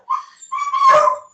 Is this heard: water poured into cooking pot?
no